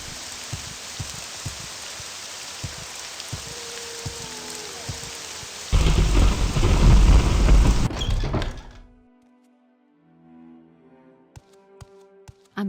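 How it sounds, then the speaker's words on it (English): Loud rain and storm ambience in the video game Morrowind, a steady dense hiss with occasional thunks that swells louder midway, then cuts out abruptly into near silence broken by faint game tones and clicks. "What a very loud storm this is."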